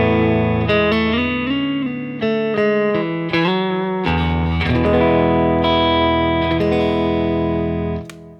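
Single-coil electric guitar played through an Axe FX 3 capture of a REVV D25 amp with a Creamback speaker, a run of overdriven notes and bends followed by a ringing chord that fades out.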